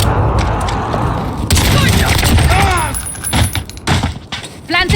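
A precision airstrike in a video game team deathmatch on the Sawmill map delivers loud, dense rumbling blasts and booms throughout, with gunfire and voices mixed into the chaotic din.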